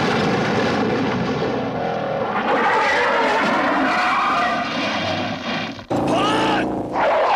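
Tires skid and squeal loudly during a car chase in an action film, a sustained screech with engine roar that cuts out briefly near the end before another short squeal.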